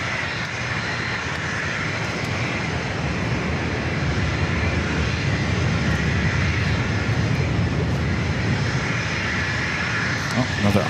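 An Osprey tiltrotor aircraft flies near San Diego airport, giving a continuous, loud, broadband engine roar that holds steady across the whole stretch, with faint talk in the background.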